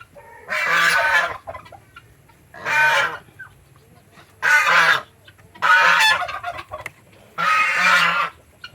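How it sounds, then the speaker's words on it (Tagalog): Farm-kept heritage geese honk loudly in five separate harsh bursts, roughly a second apart, close by with quiet gaps between calls. "maingay ating gansa"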